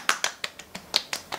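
Hands pat toner onto facial skin in eight quick, light slaps, close up and crisp, in an uneven rapid rhythm with nothing else heard.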